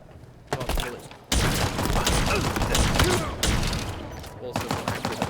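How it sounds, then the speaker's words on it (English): Rapid gunfire from a 3-round burst rifle in Halo Infinite, a dense, loud fusillade of repeated shots running nearly the whole stretch after a brief quieter start, with short gaps between volleys. "So again, this is the 3-round burst."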